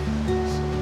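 Water flowing down from a mountainside, a steady loud rushing wash with no breaks, close and continuous throughout.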